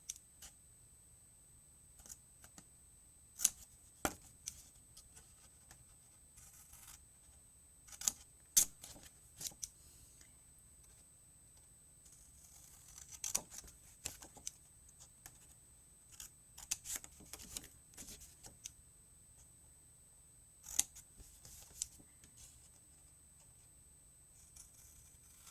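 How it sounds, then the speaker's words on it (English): Scissors snip card stock along a score line in scattered, sharp clicks and crunches, close and quiet against near silence, with irregular pauses between cuts. "I am going to cut the score line away"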